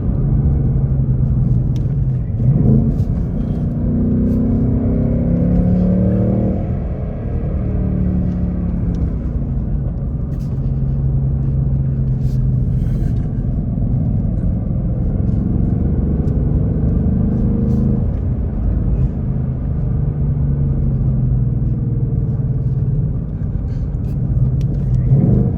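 A 2024 Ford Mustang GT with manual gearbox, performance pack and active exhaust drives a mountain road, its V8 giving a steady low rumble with mild swells in revs, heard from inside the car, with a voice talking over it at times.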